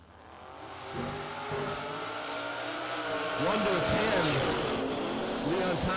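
A Chevrolet Vega in the left lane and a Corvette in the right lane launch side by side at a drag racing event, engines roaring and climbing in pitch over about six seconds as a loud announcer talks over them.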